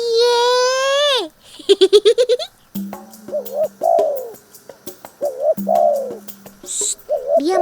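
A spotted dove coos in low, repeated rhythmic phrases, close and clear, mixed with other sharp, rising bird calls and chirps at the start.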